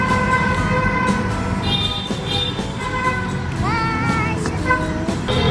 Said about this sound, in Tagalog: bakit sila nagbubusina ng ganyan kalakas kapag dadaan sa tunnel